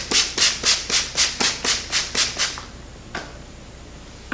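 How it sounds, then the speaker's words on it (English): A brush strokes through wet hair while a bun is being prepared, about ten steady, evenly spaced rasping strokes, close and clear, then a pause and a couple of isolated strokes, with no talk. "I am just going to wet the hair down and brush it out."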